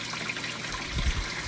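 Water from a fountain at the top of a hydroponic grow tower runs into a reservoir and sieve and trickles down the sides of the tubes, a steady close splashing rush with a brief louder gush.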